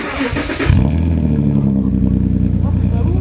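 A Porsche Cayenne fitted with a straight-pipe exhaust revs hard: a loud, deep, sustained engine roar rises in at once and holds steady, close by, after a brief stretch of voices.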